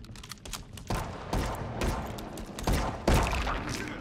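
Gunfire from a hunting shotgun in the video game Sons of the Forest: a series of heavy booming shots and thuds, loud and close, repeating irregularly about every half second to second.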